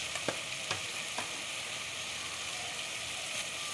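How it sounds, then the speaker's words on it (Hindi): Spices fry in a pan for Pakistani mash daal, a soft continuous sizzle with a few light spoon taps early on, fairly quiet and close. "मसाले को भी अच्छे से फ्राई करें"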